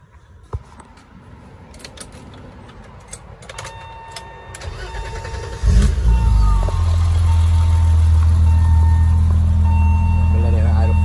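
A BMW E30's engine cranks and catches after a radiator install, settling into a loud, steady idle that runs to the end; a person talks briefly early on.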